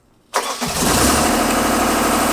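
The engine of a Genie Z-45 boom lift cranks briefly and catches, then settles into a steady, loud idle close by.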